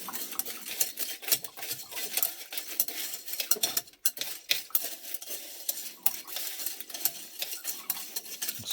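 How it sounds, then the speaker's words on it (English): A gold plating stripping solution made with iodine and recycled liquid is stirred steadily. The stirring gives a busy, continuous scraping and clinking close by, with brief pauses and no voices. "Stir constantly."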